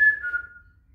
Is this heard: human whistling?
yes